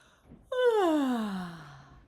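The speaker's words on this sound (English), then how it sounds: "Let your voice awaken your body with a yawn or two or more." A single long, voiced yawn that starts high and slides slowly downward in pitch before fading out.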